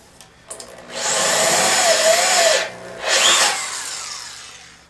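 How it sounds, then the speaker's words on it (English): A corded power drill with an extra side handle whines loudly as it bores a hole into steel, running steadily for a couple of seconds, pausing briefly, then grinding again. "I'm using a corded drill with an extra handle on it for the added torque."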